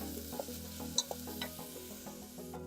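Onions sauté quietly in a pan as the first step of a creamy pumpkin soup. Soft, scattered stirring ticks and a gentle sizzle sit over a faint low hum at a low, distant level, with no voices.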